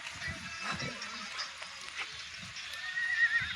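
A horse whinnies at close range among faint hoof clops in an outdoor setting, with brief voices in the background.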